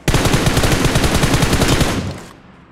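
Automatic gunfire in the battle-royale game BGMI is loud and close, a rapid unbroken burst of about two seconds that cuts off and leaves a short fading tail.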